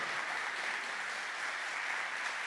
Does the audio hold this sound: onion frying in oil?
no